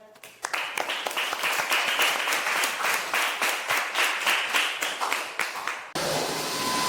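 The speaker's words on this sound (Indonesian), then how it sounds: "Beri tepuk tangan yang meriah" A class of students applauds enthusiastically during a lesson, dense, lively clapping for about six seconds that cuts off abruptly into quiet room tone.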